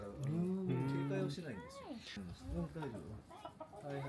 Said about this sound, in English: This chicken had a great personality.